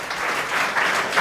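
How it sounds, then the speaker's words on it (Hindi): An audience in a classroom-style lecture gives a student a steady round of clapping, dense and continuous with no talking, swelling slightly near the end. "प्रिंस कुमार आए हैं, इनके लिए ताली मारिए एक बार जी"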